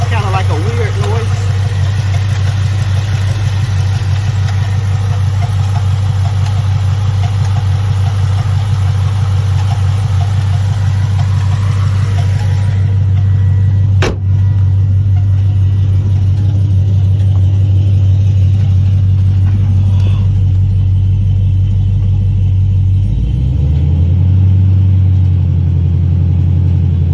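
A car engine idles with a loud, steady low rumble and an odd tonal drone, rising briefly with light throttle before the pitch drops back and settles near the end, with no talk over it.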